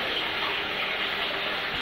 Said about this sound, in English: Beach waves.